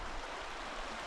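Continuous rushing water of river rapids along the Red Cedar State Trail, a dense, steady hiss heard nearby with no voices.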